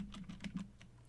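Quiet keystrokes on a computer keyboard as a terminal command is entered, a few soft irregular clicks close by with no talking.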